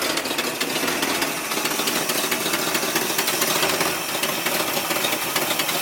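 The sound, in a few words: Squarebody Chevy truck engine running roughly after sitting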